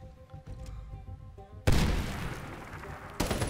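A frag grenade bursts in Medal of Honor: Warfighter, a sudden loud close explosion after a quieter stretch, followed by a decaying rumble and a second sharp blast near the end.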